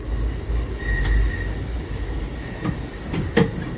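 Long-distance passenger train rolling on the rails, with a steady low rumble, high wheel squeals, and a few sharp metallic clanks toward the end, heard from inside a crowded car.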